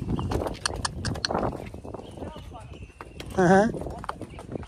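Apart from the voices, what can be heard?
cattle and donkeys walking past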